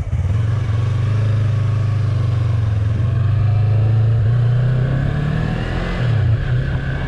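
A Yamaha MT-03 motorcycle engine revs loudly and close by at a steady, deep roar throughout, with a small swell and dip near the end.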